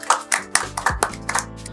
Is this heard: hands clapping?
yes